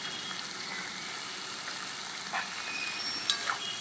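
Shrimp lightly frying in a pan with turmeric, mustard paste and green chilli: a steady, even sizzle with a couple of faint clinks near the end.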